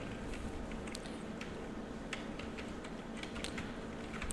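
Steady keyboard typing on a computer, light rapid key clicks running without a break at a low level, with no voices.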